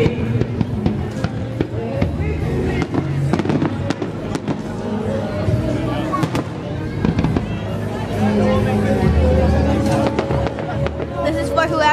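Fireworks at Navy Pier boom and crackle continuously, loud and close, with sharp bangs and rumbling over a crowd's murmur and voices throughout.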